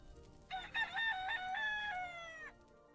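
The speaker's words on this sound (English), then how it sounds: "Well, the rooster's still loud." A loud rooster crows once in the blocky survival game TerraFirmaCraft, a Minecraft mod, the harmonic call held for about two seconds and alone over a quiet background.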